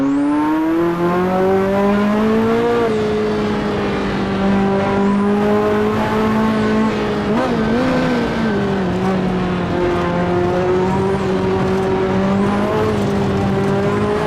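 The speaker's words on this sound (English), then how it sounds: "Yeah, driving that Audi R8" An Audi R8 roars through Assetto Corsa, its engine holding a steady, loud tone that dips and climbs as it revs, with occasional tire squeal mixed in and no talking.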